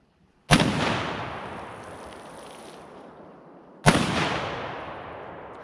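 Two loud shotgun blasts during a wood duck hunt, each a sharp crack followed by a long echoing decay across open water, spaced a few seconds apart with no voices between them.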